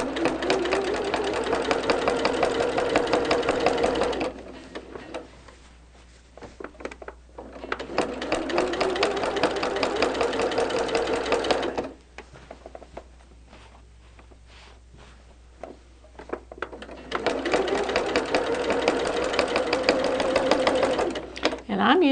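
Domestic sewing machine stitching through a quilt as it is machine quilted, running in three long steady bursts of rapid whirring stitches with short pauses between, close and loud.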